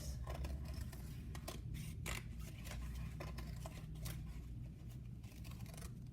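Scissors snip through paper while ears are cut out for a craft, a close, quiet series of crisp irregular cuts and rustles with no talking.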